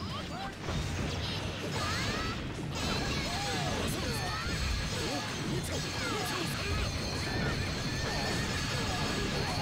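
Horse neighing in the video game Sengoku Basara 2 Heroes, several whinnies rising through dense battle noise of crashes, hits and swooshes, with talk over the top.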